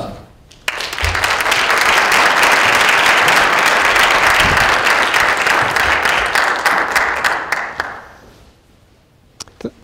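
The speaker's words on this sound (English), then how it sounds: "I encourage you all a round of applause" An audience gives a lecture speaker loud, sustained applause, dense clapping for about seven seconds before it fades out into a few scattered claps.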